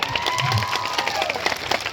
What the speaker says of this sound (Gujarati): અહીંયા જેટલા પણ પોલીસ અધિકારી હોય એમના માટે એકવાર જોરદાર તાળીઓ પાડી લો